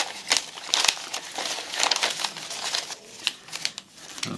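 Paper booklets from an Apple Pencil 2nd Gen box are handled up close, giving a string of crisp crinkles, rustles and light flicks at an uneven pace, with a soft thump near the end.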